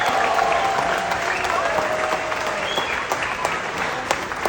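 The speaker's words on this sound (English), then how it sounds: "Can we give a nice round of applause one more time?" A crowd aboard a Royal Caribbean cruise ship applauds steadily, a dense wash of many hands clapping at even loudness, with faint voices mixed into the clapping.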